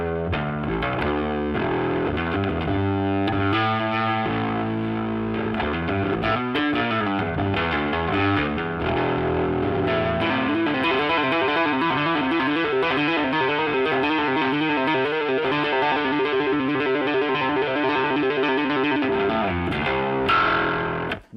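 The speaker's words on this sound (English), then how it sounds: "With the bass scrambler overdrive circuit, I can dial in everything from a mild overdriven SVT" Ampeg BA-112 bass combo amp with its scrambler overdrive circuit engaged: a sustained, heavily distorted bass line with gritty, buzzy harmonics, played loud and continuous with no talking.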